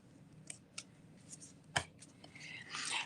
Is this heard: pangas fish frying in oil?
no